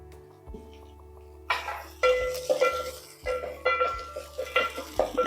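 Onions sizzle as they sauté in a pan while a utensil stirs and scrapes against the metal, with several clinks and knocks in an uneven rhythm.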